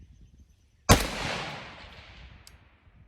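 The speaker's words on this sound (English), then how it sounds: "Firing." A single sharp rifle shot from a 6.5 Grendel fired toward a 500-yard target outdoors, a loud crack followed by a long rolling echo that fades over two seconds, preceded by near silence.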